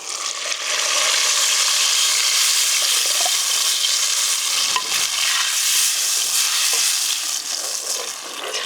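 Fish curry broth poured into a hot pot over an outdoor fire and stirred makes a loud, continuous hiss with faint scraping throughout.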